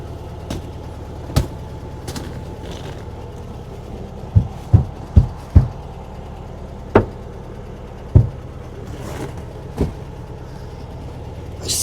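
A rattle inside a moving 1957 VW Beetle: irregular sharp knocks and clunks, some in quick clusters, ring out close and loud over the low, steady drone of the running car.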